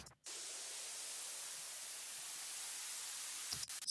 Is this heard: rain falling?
no